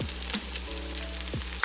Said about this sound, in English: That is the sound of catfish getting cooked.